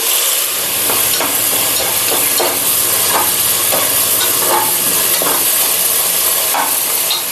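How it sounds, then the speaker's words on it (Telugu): Ginger garlic paste frying hard in a pan, a loud dense sizzle that never lets up, with a few soft scrapes of stirring every second or so and no voices. "ఇది బాగా పచ్చి వాసన పోయేంత వరకు వాడుకోవాలి."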